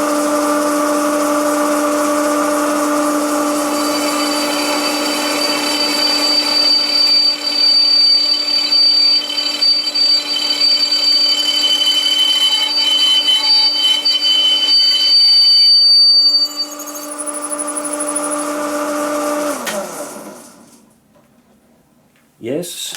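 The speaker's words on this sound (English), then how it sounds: "And now we test the high-speed steel cobalt drill bit from Banggood." A high-speed steel cobalt drill bit, lubricated with oil, bores through material with a loud, steady, high-pitched tonal whine for about twenty seconds before winding down and stopping.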